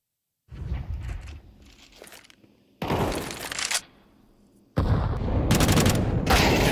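A grenade explosion in a Counter-Strike match, heard as sharp bursts of blast and gunfire separated by abrupt silences, the loudest stretch arriving last and sustained, with no talking.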